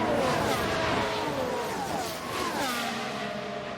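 Formula 1 race cars in F1 Manager 2022 at the Mexico race, a continuous engine whine with shifting pitch as cars run down the front straight, fairly loud and steady with no voices.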